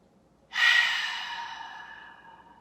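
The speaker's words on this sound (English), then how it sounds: "big exhales through the mouth. Inhale." A slow, deep breath out through the mouth during a guided yoga leg stretch: one long, airy, close exhale that swells quickly and then fades gradually over a couple of seconds in a quiet room.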